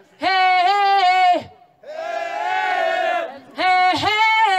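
A live concert audience shouting "Hey!" back in unison at a music performer, three loud sustained chant bursts with a brief gap between the first two.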